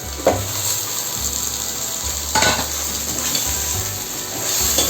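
Citron pieces frying in a pan with tomato, onion and green chilli, a steady sizzle with occasional stirring clinks and scrapes.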